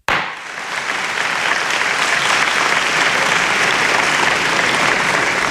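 Loud, sustained applause fills a hall as China joins the WTO in 2001, a dense, steady roar of clapping that swells quickly from a sharp start and continues without a break.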